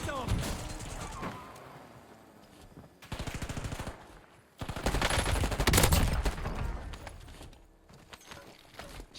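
Submachine gun fire in Call of Duty Warzone, with rapid automatic bursts loud and close in repeated volleys separated by short pauses, and occasional voices underneath.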